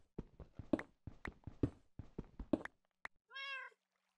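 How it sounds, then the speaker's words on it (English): A witch cat in the Minecraft modpack SevTech Ages gives one clear meow at the end, after a quick run of soft thudding footsteps, with no talking. "It's the witch cat."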